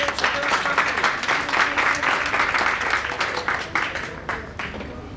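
An audience at a foundation's anniversary event claps for Rahul Khandelwal, a steady burst of applause lasting a few seconds before it thins out near the end.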